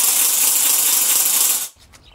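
A wooden carraca ratchet rattles in a loud, rapid, continuous clatter, close by, then stops abruptly, leaving a brief quiet tail.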